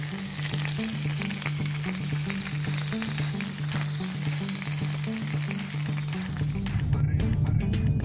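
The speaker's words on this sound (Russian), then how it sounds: "колбаски гриль готовим на сковороде" Grilled sausages frying in a pan at a country house, a steady close sizzle with crackling pops throughout, growing a bit louder at the end.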